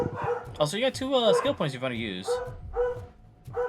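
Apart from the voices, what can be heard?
dog barking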